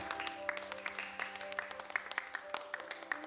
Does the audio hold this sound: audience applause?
yes